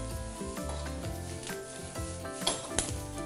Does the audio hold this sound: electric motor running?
no